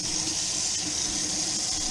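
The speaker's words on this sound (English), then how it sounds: "I fill it with water, put the fish inside." Water gushing steadily from a tap or hose into a bin being filled for scaling snapper underwater, a continuous close hiss and splash with no pauses.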